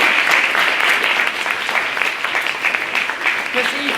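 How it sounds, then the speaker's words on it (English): Loud, dense applause from the audience at a debate, continuous clapping with a few brief voices and cheers rising over it. "So another round of applause for that as well."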